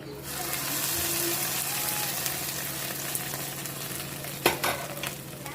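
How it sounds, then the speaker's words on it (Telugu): Hot oil sizzles steadily in a pan as a garlic-heavy tempering fries for a curry, a close, continuous crackling hiss, with a few sharper clatters near the end. "పోపు బాగా వెల్లుల్లిపాయలు ఎక్కువ వేస్తాం అనమాట అండి ఈ కూరలో"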